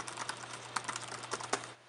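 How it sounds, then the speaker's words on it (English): Typing on a MacBook Pro keyboard, a quick run of light clicky keystrokes in an uneven rhythm, close and alone against a faint steady hum. "It's got a bit of a clickety-clacks kind of sound to it as you're typing on it."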